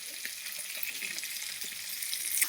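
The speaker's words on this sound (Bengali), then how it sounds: "ভালো করে মাছটাকে ভেজে নেব।" Fish fries in oil in a pan with a steady, close hiss of sizzling that holds level throughout and swells slightly toward the end, with no voices.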